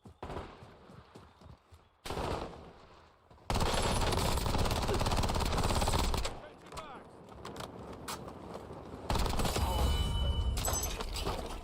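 Bursts of loud, close automatic gunfire in Call of Duty: Warzone, with sustained rapid volleys separated by quieter gaps and a voice talking partway through.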